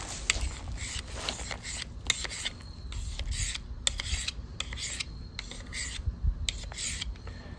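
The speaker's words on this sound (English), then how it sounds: "to sharpen the spine, I hold it good and square to that coarse side and drag back about 10 times" The spine of a stainless Mora Companion HD knife is drawn repeatedly across the coarse side of a sharpener, producing close, rhythmic scraping strokes in quick succession, moderately quiet and with no talking.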